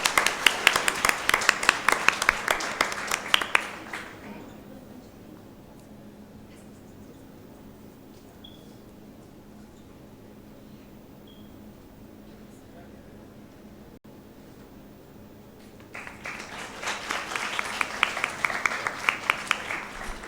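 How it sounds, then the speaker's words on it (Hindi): Loud applause at a birthday celebration event, with a burst of dense clapping that stops abruptly, a quiet stretch of room hush, then another strong round of clapping rising at the end. "तालियों की गड़गड़ाहट रुकनी नहीं चाहिए"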